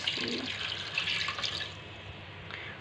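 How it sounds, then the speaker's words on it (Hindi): A glass of water poured into a pot of minced beef keema, making a steady splashing pour that tapers off after a couple of seconds, fairly close and moderate in level. "अब मैंने इसके अंदर 1 गिलास पानी शामिल करना है।"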